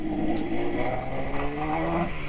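A 1976 Yamaha RD400 two-stroke motorcycle engine revs with a buzzing, raspy, harmonic-rich tone that holds fairly steady at close range and stays alone without talk.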